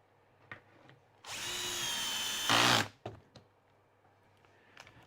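Power drill driving a screw into wood while building drawers: a close, loud motor whine that holds for over a second and then bogs down and climbs as the screw seats, with light knocks and handling sounds around it.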